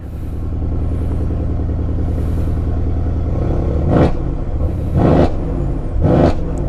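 A 4-litre bi-turbo Mercedes C63 AMG with its active sport exhaust switched on idles with a steady deep rumble, then is blipped three times in quick succession, each rev a loud, sharp, near bark rising above the idle.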